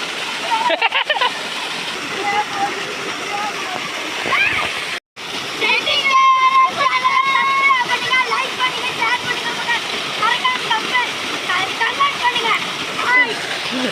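Water pours steadily over a small natural waterfall near Namagiripettai, Rasipuram, a dense continuous splashing rush that fills the whole clip, with a brief break midway and people's voices faintly mixed in.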